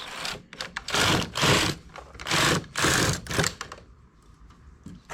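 Machine-knitting carriage sliding back and forth across the needle bed knitting a row, loud whirring, clattering sweeps in several bursts with short pauses between, then a quieter mechanical tail.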